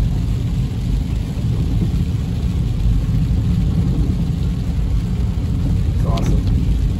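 Thunder rumbles low and steady through a rainstorm in Big Bear, California, with continuous rain noise and a faint brief sharper crackle near the end.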